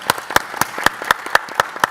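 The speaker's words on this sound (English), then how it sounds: "Big applause." An audience at a summit claps in an even, rhythmic beat, with crisp, loud claps about four times a second over a short burst.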